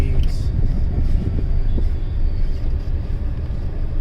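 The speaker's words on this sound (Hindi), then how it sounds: "आप लोग को इंजन की तो आवाज आ ही रही होगी" A continuous low car engine rumble fills the scene, steady and loud, like riding inside a running vehicle on a road trip from Chandigarh to Narkanda in Himachal Pradesh.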